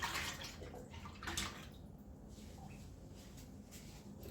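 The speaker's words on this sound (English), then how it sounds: "we will just add more vinegar water" Vinegar water is poured over Easter eggs sitting in containers, a quiet splashing trickle with a few brief bursts and small drips, close by and faint, with no talking.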